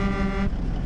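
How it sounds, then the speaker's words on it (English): A single loud air horn on a Freightliner Argosy truck in a video game blasts for about half a second, a rich, steady blaring tone, then cuts off abruptly. "There's the air horn."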